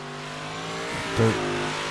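A big block modified race car runs on the track at Lanier during qualifying, its engine a steady moderate drone that swells briefly louder as it passes close by.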